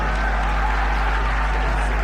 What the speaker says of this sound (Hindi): तालियां बजाइए तो उनको समझे कि और पढ़ना है मुझे